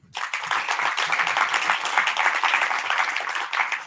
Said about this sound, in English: So please give her a big round of applause for Ryan O'Leary.